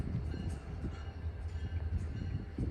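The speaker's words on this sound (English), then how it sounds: "This is the first revenue run for that black locomotive." Black Norfolk & Western locomotive hauling a train through a downtown junction, a low steady rumble with rhythmic rail clatter, moderately distant.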